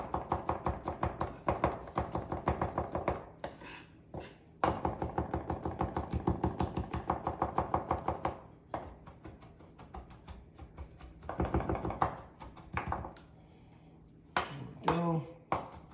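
A knife chops and minces garlic on a cutting board in quick, even, close taps, pausing briefly between runs of rapid strokes, with no voices.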